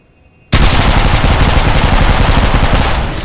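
An L-Star energy gun in a shooting video game opens fire after a half-second of quiet, then pours out a loud, continuous stream of rapid shots with a steady pulsing rhythm until the end.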